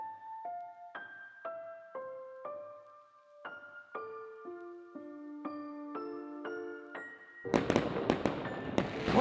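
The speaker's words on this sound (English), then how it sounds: "What's that? Must be the fireworks." Fireworks explode in the turn-based RPG VED, a burst of several sharp, loud bangs and crackles cutting in abruptly after a calm melodic game tune with plucked notes.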